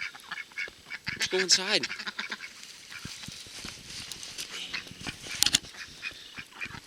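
Ducks quacking outdoors during a snowy blizzard, with bird netting nearby; several honking, nasal calls rise close by, especially early and again briefly near the end, amid wind noise and people talking.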